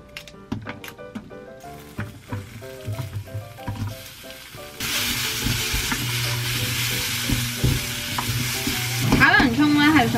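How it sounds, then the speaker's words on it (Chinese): Onions stir-fried in avocado oil, opening with clinking and tapping of utensils, then a loud, continuous close sizzle that swells toward the end as the pan is stirred, with no talking. "炒洋葱咧係想將佢嘅辣味清除曬佢，然之後去引啲甜味出嚟。"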